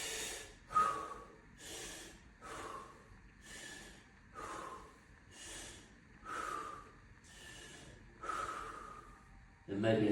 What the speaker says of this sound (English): We can do 6 breaths.